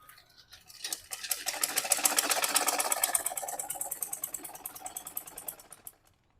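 A sewing machine stitches fabric for a gown, its needle running in a fast, even rattle that builds from a slow start, holds steady, then stops, close up with no talking.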